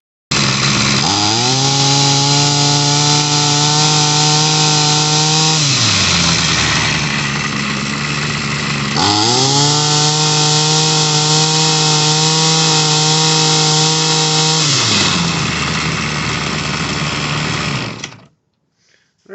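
A Toro model 51978 gas string trimmer, freshly repaired at the carburetor, buzzes loudly and close, revving up in two long bursts with a drop to a rough idle between them before the engine dies.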